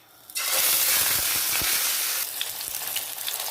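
Mackerel fillets are dropped into hot oil, setting off a sudden loud sizzle and crackle. The hiss holds steady for about two seconds, then eases into quieter, popping frying close by.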